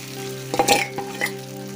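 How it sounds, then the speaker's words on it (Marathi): Sabudana (sago pearls) going into hot oil in a pan, giving a soft sizzle with a few brief stirring scrapes over a steady background hum. "तेल गरम झाले तर याच्यामध्ये आपण हा शाबू आहे तो शाबू घालणार आहे"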